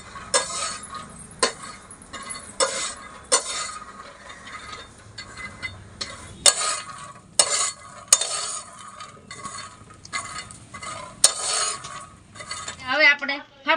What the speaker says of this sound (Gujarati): હવે છે ને આપણે માંડવીના બી શેકી નાખીએ